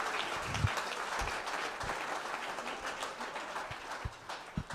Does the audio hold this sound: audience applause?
yes